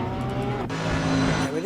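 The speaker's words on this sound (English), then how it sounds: "did you hear that Mercedes rasp out of the pits there?" A Mercedes race car leaving the pits gives a loud, steady, rasping engine note with a brief drop partway through, mixed with faint tire noise.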